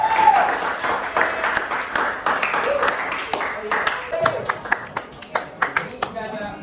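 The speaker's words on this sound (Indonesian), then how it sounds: "Beri aplaus untuk Aura." Classmates applaud a student presenter in a classroom, a short burst of clapping that thins into scattered individual claps, with voices talking over it.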